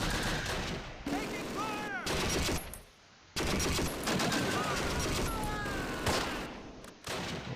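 Loud, chaotic wargame combat from Close Combat: Last Stand Arnhem, with mortar fire mixed into dense overlapping gunfire and explosions, one short quiet gap in the middle before the barrage resumes at full strength.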